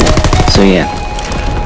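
PPSh submachine gun in the video game Call of Duty WW2 firing a rapid, loud, close burst that cuts off abruptly, followed by a lingering tail.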